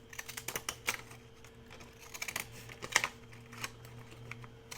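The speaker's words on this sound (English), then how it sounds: "cutting them with these type scissors does take a little bit longer" Repeated sharp snips of scissors cutting, irregular clicks and crisp slices close by with pauses between.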